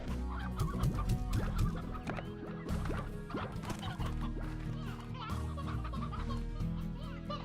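Chickens cluck continuously in the video game Slime Rancher, a busy overlapping chorus of clucks and squawks, fairly loud and close, with occasional voice nearby.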